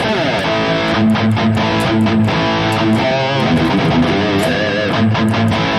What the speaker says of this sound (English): So this is the sound without the flanger.